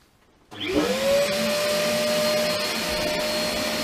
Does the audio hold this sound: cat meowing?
no